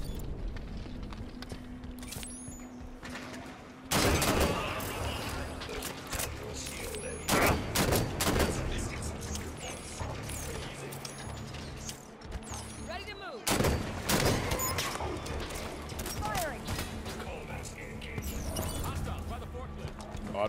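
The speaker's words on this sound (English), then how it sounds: "Turrets on and firing." Automated turrets in Halo 5 multiplayer fire in loud sharp bursts that cut in and out over a steady background of game noise, with several heavy volleys in the middle and later.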